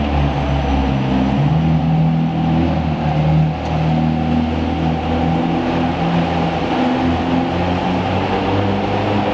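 A McLaren Senna drives by in the dark after a shoot, its engine a steady loud droning roar that holds throughout, with a brief dip partway through.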